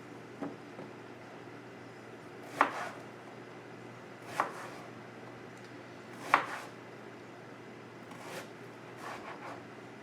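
Knife slicing an onion thinly on a cutting board, a few sparse, soft chops spaced about two seconds apart over a quiet room hum.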